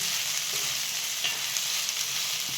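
Onions sautéing in a pan for a Maharashtrian dal kanda, a continuous close frying crackle with soft spatula scrapes and stirring taps scattered across it.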